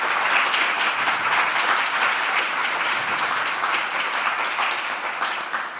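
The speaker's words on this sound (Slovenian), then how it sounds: "Dajmo en aplavz za Evo." Audience applause at a charity concert of a music and arts festival, dense sustained clapping from a sizable crowd that stays loud and steady throughout, slowly easing off near the end.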